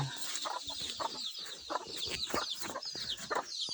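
A hen clucks and chirps nearby, with a busy overlapping chorus of soft clucks and high peeping from her chicks.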